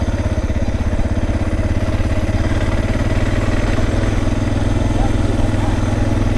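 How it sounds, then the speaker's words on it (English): A Suzuki DR650 motorcycle carrying two riders off-road through grass runs with a steady, loud single-cylinder thump and clatter, heard close and continuous throughout. "we're riding 2 up on a DR650"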